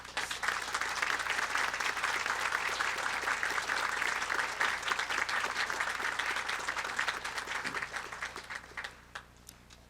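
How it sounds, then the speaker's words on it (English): Audience applause fills a college commencement ceremony at Illinois College, a steady, dense clapping from a large crowd that holds for about eight seconds before thinning and fading out at the end. "so let's give them a round of applause"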